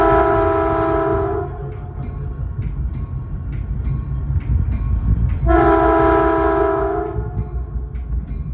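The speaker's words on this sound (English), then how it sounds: "Get to hear that horn a couple of more times for these crossings." A Caltrain cab car's horn sounds two loud sustained blasts for grade crossings between Millbrae and San Francisco, with steady rumbling train and track noise carrying on underneath and between them.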